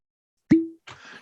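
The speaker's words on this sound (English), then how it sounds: "So cork pop." A cork pops from a bottle of Breckenridge Powder Hound whiskey, one sharp hollow plop with a brief ringing tone, followed by a short faint rustle.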